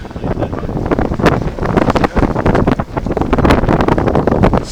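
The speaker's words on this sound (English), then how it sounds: "Slicing through the wind." Strong wind buffets a sailboat under sail during sea trials, a loud continuous roar with gusting surges against the microphone and no talking.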